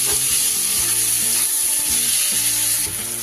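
Two medium onions, very finely chopped, fry in hot oil, giving a loud, dense, continuous sizzle with a few stirring scrapes, close up and without speech.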